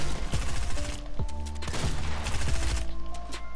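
Fortnite gunfire crackles in quick bursts and single shots, some sharp and near and others rapid and overlapping, over continuous in-game ambience.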